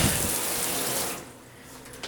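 Water streams steadily from a hotel shower head, a close hissing spray that cuts off partway through, leaving a quieter tail with a small splash at the end.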